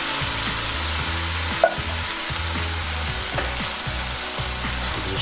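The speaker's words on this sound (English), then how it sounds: "To this now we're going to add 1 tin of chopped tomatoes" A tin of chopped tomatoes goes into a sizzling cast iron pot for a meatball sauce, giving a steady loud frying hiss with scattered soft knocks and scrapes, no voices.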